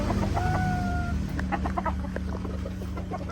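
A Gilmore gamefowl rooster on a farm gives a short crow and a few clucks, faint against a steady low background hum, with no talking.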